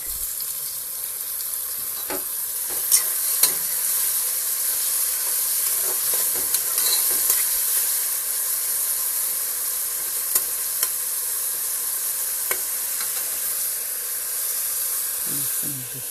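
Greens, onion and tomato cook in a pot for a potato and meat sauté, a steady close hiss of frying and steam with occasional sharp clicks of a utensil, no speech.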